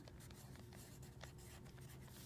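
Faint, continuous scratching of a word being written on a classroom board, low and steady against a hum of background noise, no voices.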